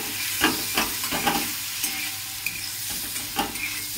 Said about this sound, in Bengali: গ্যাস কমিয়ে একদম কম আঁচে করে চিংড়ি মাছটা ভেজে নেব